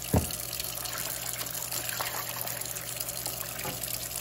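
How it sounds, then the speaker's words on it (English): Warm tap water runs steadily into a tin-lined copper pan with soap in it, a constant close trickling and splashing stream after a brief knock at the start. "I'm gonna switch to warmer water and I'm gonna let that get in the pan with the soap."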